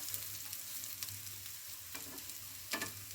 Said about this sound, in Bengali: ওপর পিঠটাও উল্টে দিচ্ছি ওপর পিঠগুলো ভেজে নেব